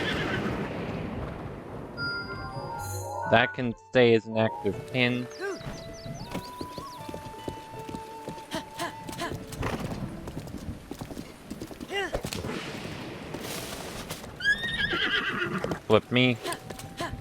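A horse in The Legend of Zelda: Breath of the Wild neighs loudly several times amid a steady clip-clop of hooves, while a person talks over much of it alongside game music.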